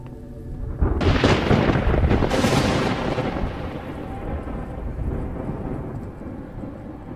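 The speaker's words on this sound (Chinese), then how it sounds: "不是打雷下雨，这样的鬼天气" A thunderclap cracks loudly, then a second, and rolls into a long rumble over steady heavy rain during a stormy scene, with no talk.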